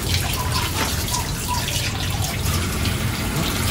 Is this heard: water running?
yes